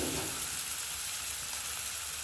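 Onion frying with ginger and garlic paste in a pan, a soft steady sizzle with faint crackle heard alone and fairly quiet, with no talking.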